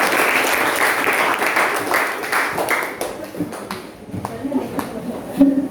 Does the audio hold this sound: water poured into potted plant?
no